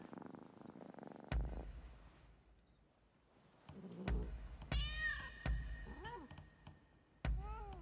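Video game cat meowing and purring, a low rumbling purr under several rising and falling meows, with soft thumps spaced through it.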